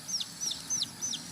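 A young Sumatran red junglefowl chick, under nine days old and kept in a bird cage, gives four evenly spaced high-pitched peeps or clucks, close and clear over a faint background hiss.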